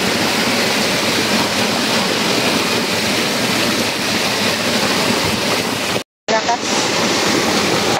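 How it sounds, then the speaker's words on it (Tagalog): Strong floodwater rushes through a creek during a tropical storm, a loud, constant roaring wash that cuts out briefly near the end and then resumes. "Lakas ng tubig."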